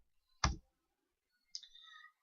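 Two short clicks of a computer mouse during website page editing, the first sharp and loud, the second lighter and followed by a faint trailing rattle, separated by about a second of silence.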